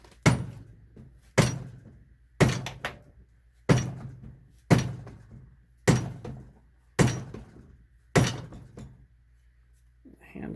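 A hammer strikes a Datsun suspension part locked down on a workbench. Eight loud, separate impacts land about once a second, each ringing briefly before the next blow.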